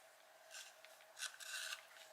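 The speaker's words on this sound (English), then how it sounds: "And so I've sharpened it up." Red coloured pencil being sharpened, a dry scraping rasp in a few close bursts over a steady low hum, with no talking.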